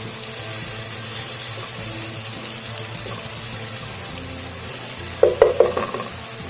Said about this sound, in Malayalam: മല്ലിപ്പൊടി ചേർക്കാം, അതൊന്ന് ചെറുതായി വഴറ്റിയതിന് ശേഷം